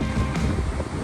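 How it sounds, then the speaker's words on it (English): Strong wind buffets the microphone on the coast by the Naruto whirlpools, a steady broadband roar in one short burst. "the wind is so strong up here right now"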